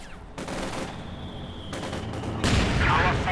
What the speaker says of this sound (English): Panzers here firing with only 1 man firing from the window.